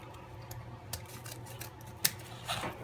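Scissors snip through wreath material while a Christmas wreath is being made, a couple of quiet crisp cuts over a low room hum with a sharper single snip near the end.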